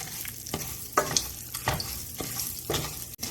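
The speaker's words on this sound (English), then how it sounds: "we're going to fry this until they're nice and golden and puffed" Rice fries in hot oil in a pan, a soft continuous sizzle broken by repeated scraping stirs in an uneven rhythm.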